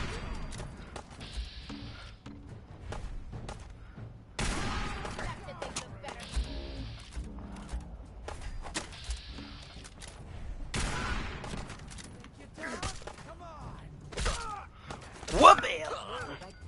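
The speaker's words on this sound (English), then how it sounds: "People shooting at you?" Scattered gunfire from enemies shooting at the player in Fallout 4, heard as short sharp bursts and volleys spread across the scene under frequent talk, with one louder crack near the end.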